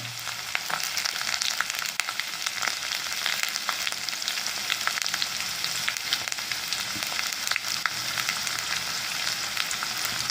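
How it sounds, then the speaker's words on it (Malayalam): Shallots and ginger crackle and sizzle steadily in hot oil in a pan for beetroot thoran, a dense continuous frying hiss with small pops throughout, close and fairly loud, no talking. "ഇത് നന്നായിട്ട് മൊരിയട്ടെ."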